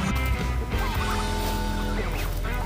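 A turkey gobbles loudly and close by at an animal petting facility, rapid warbling calls repeating over steady background noise.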